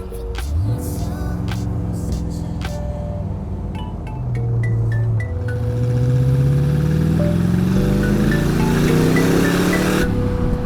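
A 2008 AC Cobra replica's engine revs and pulls away, a loud, close rising drone that climbs through gears with a brief tire squeal, building steadily before easing near the end.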